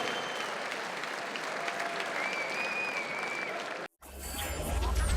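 An MMA event crowd applauding and cheering for a fighter, a dense wash of clapping from a large audience that drops out abruptly for a moment and then resumes.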